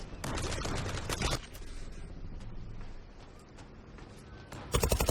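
Gunfire in the online shooter Zula rattles in quick automatic bursts, loud at the start and end with quieter distant shots in between.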